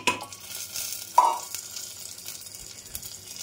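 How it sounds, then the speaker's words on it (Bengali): Cumin seeds and washed, dried lentils frying in a pan with a soft, steady sizzle and scraping stir, one brief louder clink near the middle, no voices. "ডালটা একটু ভাজা ভাজা হয়ে গেলে"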